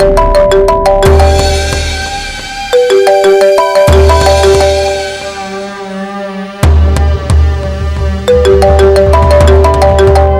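A mobile phone ringtone plays loud and close in an Odia TV serial scene, a repeating melodic tune with sharp percussive hits that pauses briefly before resuming.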